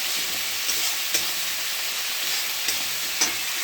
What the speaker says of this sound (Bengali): বাটনা দিয়ে দিয়েছি, ভালো করে কষে নিই।